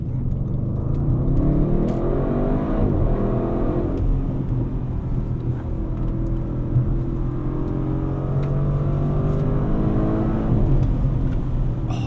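Audi RS6 Performance estate car with an aftermarket exhaust accelerating hard on a test drive, a loud continuous engine roar and rumble with rising and falling pitch as it pulls through gears, heard from inside, no speech.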